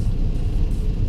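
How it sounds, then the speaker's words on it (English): Trucks on a rainy mountain pass near the summit produce a loud, close, continuous low rumble, a heavy roar that swells slightly without pause in the brief stretch and carries no speech. "Here come the trucks."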